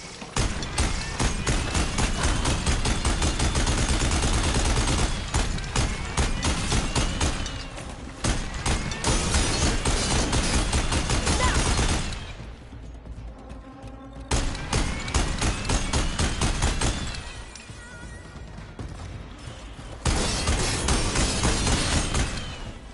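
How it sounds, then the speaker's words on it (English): Deathbringer heavy gun in Horizon Forbidden West fires in long sustained bursts of dense rapid gunfire, loud and close, broken by brief pauses and a few quieter gaps before resuming. "We've got a death bringer gun."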